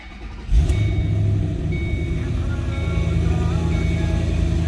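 A 2006 Ford Mustang GT engine cranks and catches at about half a second, then settles into a steady, rumbling idle with a deep, non-stock exhaust burble, close and loud.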